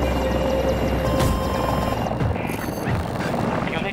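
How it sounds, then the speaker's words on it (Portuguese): A helicopter in the video game Battlefield 2042, its steady rotor drone and whine loud and continuous, with some faint game sound effects layered on top. "Isto é o outro helicóptero"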